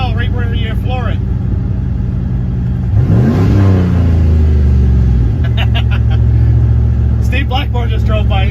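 A turbocharged LS-swapped Dodge Caravan accelerates hard at full throttle, its engine note climbing steeply mid-clip and then holding a loud, steady drone, with talk over the start and end.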